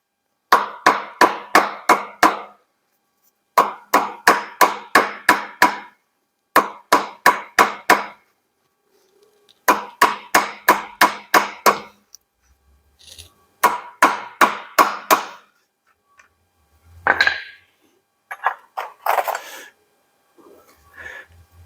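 Steel hammer blows on a socket extension used as a drift against a Yamaha XS1B motorcycle axle, loud close ringing strikes in rapid bursts of five or six, paused between groups, with some faint breathing and shuffling near the end.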